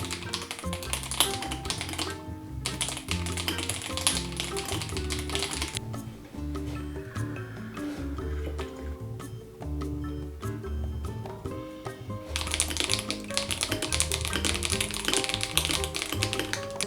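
Meeting notes are typed on a computer keyboard in a rapid, uneven patter of key taps that continues throughout, set against steady background music.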